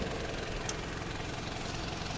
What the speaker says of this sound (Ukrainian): Так, ось робота двигуна.